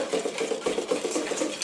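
Eggs and vanilla extract whisked in a bowl for crème brûlée, a quick rhythmic scraping and tapping of the whisk against the bowl, close and steady.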